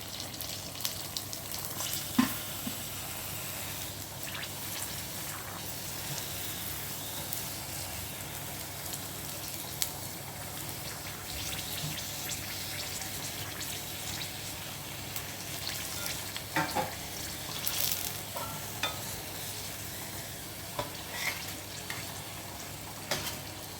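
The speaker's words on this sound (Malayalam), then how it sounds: "അപ്പോൾ നമുക്ക് പാനിപ്പൂരി ഉണ്ടാക്കാനുള്ള ഫ്രെയിംസ് ഫ്രൈ ചെയ്തെടുക്കാം" Pani puri shells frying in hot oil at home, a steady dense sizzle and crackle running throughout with occasional louder pops and faint stirring.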